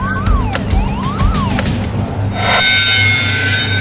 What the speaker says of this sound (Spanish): Las alarmas de gas sonaron en la cubierta de producción.